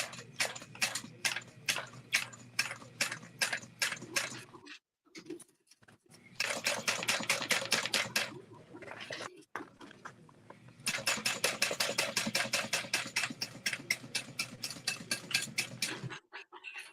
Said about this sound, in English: I'm just gonna stitch.